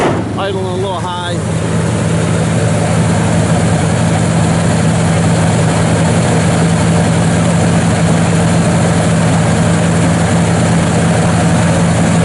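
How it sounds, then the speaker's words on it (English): A 1956 Chevrolet Bel Air V8 with electric choke idles fast on a cold morning, a steady close rumble running throughout with a brief voice near the start. "Choke's on, so it's idling a little high."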